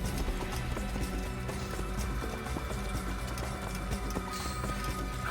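Horse hooves clip-clop in a fast galloping rhythm in the Assassin's Creed video game, continuous and fairly loud over a busy game background.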